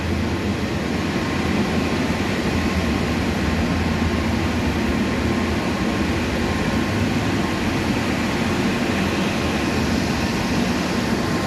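A fire-protection jockey pump motor runs steadily at around 300 PSI, a constant low mechanical hum and drone that holds at the same level throughout without change.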